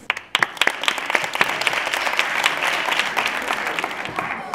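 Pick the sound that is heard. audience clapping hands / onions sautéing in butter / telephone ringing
audience clapping hands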